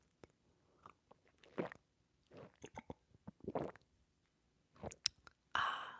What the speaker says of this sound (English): About to have some gulps.